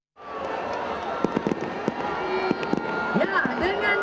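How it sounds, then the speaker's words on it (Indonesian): Fireworks at the closing of Jakarta Fair 2025 burst repeatedly in sharp, scattered bangs over a constant roar of a crowd, some pops close and loud, others further off. "Pesta Kembang Api memeriahkan penghujung gelaran Jakarta Fair 2025"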